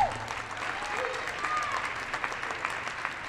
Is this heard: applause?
yes